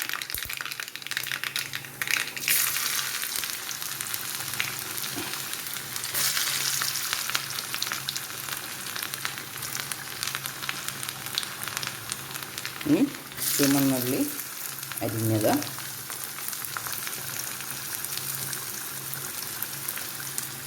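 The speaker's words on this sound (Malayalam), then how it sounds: "കടുക് പൊട്ടി ഇനി നമുക്ക് തീ ഒന്ന് കുറച്ച് വെച്ചിട്ട് ഇഞ്ചിയും വെളുത്തുള്ളിയും ഇടാം" Chopped ginger and garlic fry in hot oil with popped mustard seeds on a lowered flame, a steady close sizzle throughout with stirring clatter and a few louder bursts near the middle.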